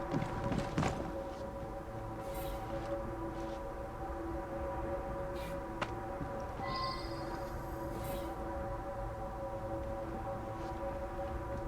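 A moving train in Assassin's Creed Syndicate rumbles steadily with a sustained mechanical drone, a few clanks and a brief high whistle-like tone midway.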